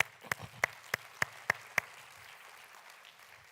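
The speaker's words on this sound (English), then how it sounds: "Please, can we just give a round of applause both?" Six sharp, evenly spaced claps ring out in quick succession, fairly faint and thin like a few people at a regional trade and markets event, then fade into quiet room tone.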